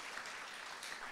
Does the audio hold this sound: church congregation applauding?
yes